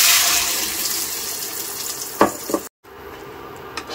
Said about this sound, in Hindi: इसमें डालेंगे हम तैयार किया हुआ ये पालक का पेस्ट